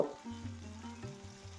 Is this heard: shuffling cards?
no